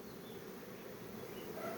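Honey bees buzz in an open beehive during a colony inspection, a steady close drone of many insects that holds constant throughout, with no talking.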